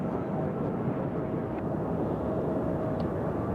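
A CRJ regional jet at Nashville International Airport produces a steady, broadband engine roar that holds evenly throughout, with a faint whine riding above the rumble and no voices.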